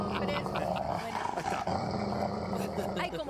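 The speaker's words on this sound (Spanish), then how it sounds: "como están los perros de Andrés García." Dogs growl in a low, continuous rumble with occasional rougher bursts, close and fairly loud, overlapping with busy background noise.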